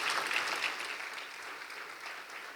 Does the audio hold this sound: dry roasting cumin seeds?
no